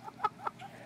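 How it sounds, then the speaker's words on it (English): Chickens at a backyard coop give a few soft, spaced clucks, fairly faint and a little distant, with no talk over them. "My chickens. I'm at the chicken coop."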